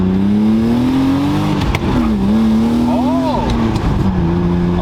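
A bagged BMW E36 with a swapped LS V8 revs and accelerates close by, its engine note climbing, dipping on a shift and rising again in a loud, continuous roar, while a voice exclaims briefly over it.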